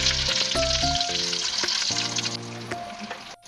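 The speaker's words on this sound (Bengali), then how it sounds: "এখন এই যে পনিরগুলো ভাজবো" Paneer balls frying in hot oil for a paneer biryani, a steady close sizzle with broadband crackle and scattered pops, joined by intermittent tonal clinks and scraping from utensils throughout.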